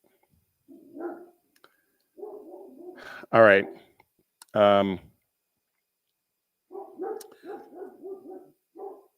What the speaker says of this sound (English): My dogs are going nuts. Something got delivered.